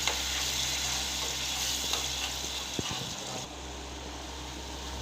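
Spices for a fish curry sizzle and fry steadily in a pan, with a constant hiss and occasional scrapes and knocks from stirring, heard up close with no talking.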